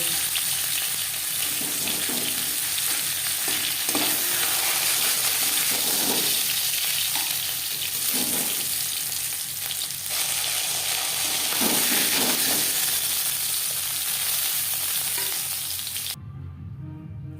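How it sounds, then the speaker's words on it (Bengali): A handful of lentil dumplings (bori) frying in oil in a wok that was just used to fry fish heads, a loud steady sizzle with occasional stirring scrapes, ending abruptly near the close. "মাছের মাথা ভেজে নেওয়া কড়াইতে আবারও তেল দিয়েছি। এবার দিয়ে দিলাম 1 মুঠো বড়ি।"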